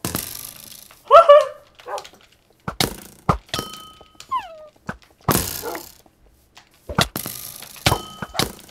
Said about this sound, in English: They have dogs.